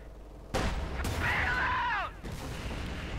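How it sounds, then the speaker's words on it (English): A German mortar half-track fires in Company of Heroes 2 with a sharp blast, followed by a whistling, descending shell sound and a dull impact, amid distant battle noise. "Opening up there in the mortar half-track."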